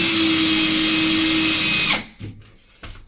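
A power drill drives screws into a wooden stair handrail, running steadily and loud for about two seconds before stopping, followed by a few faint knocks and handling sounds.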